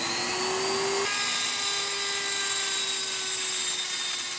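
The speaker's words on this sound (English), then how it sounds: "So back to die grinder, Christmas tree bit, safety glasses." A die grinder with a Christmas tree bit grinding a bronze weld on a small statue, giving a steady high-pitched whine that shifts pitch slightly as it bites, continuous and close.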